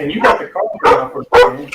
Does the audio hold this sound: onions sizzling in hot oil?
no